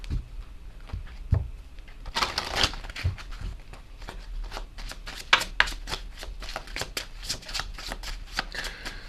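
Tarot message cards being shuffled by hand, a steady riffling and slapping of card stock close up, with a louder burst early on and no speech.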